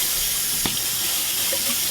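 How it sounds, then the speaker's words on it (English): Pasta water from a pot pours into a strainer in the sink while shrimp fettuccine Alfredo is being made, a loud, steady close-up rush of water. "Also, Alex needs the strainer to get rid of the water in the pot."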